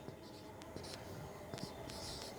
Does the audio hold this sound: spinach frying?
no